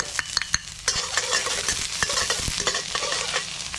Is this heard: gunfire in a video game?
no